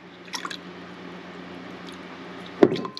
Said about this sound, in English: For a little tang, I'm going to add the rice vinegar.